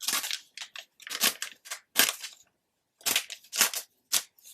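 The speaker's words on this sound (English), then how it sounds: "I have these decal edge scissors." Decal edge scissors snip through paper in quick crisp bursts, a few cuts in a row, a pause, then several more close-up cuts.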